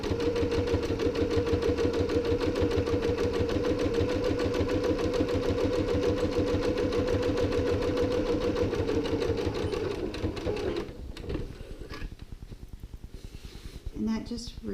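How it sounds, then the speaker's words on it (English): A sewing machine runs steadily, stitching an extra row along a tote bag, a fast even mechanical chatter close up for about ten seconds before slowing and stopping. A voice speaks over it. "add one more row of stitching"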